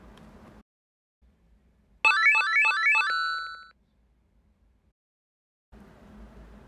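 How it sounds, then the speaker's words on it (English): Synthesized tones from two tone generators, a short rapid pattern of repeating electronic beeps followed by a sustained, fading tone, loud and alone between quieter background stretches. "we only need to use 2 tone generators to produce the required sounds"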